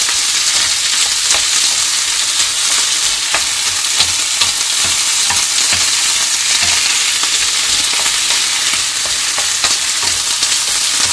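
Food stir-fried in a pan sizzles loudly and steadily up close, with faint scraping stirs scattered through and no voices.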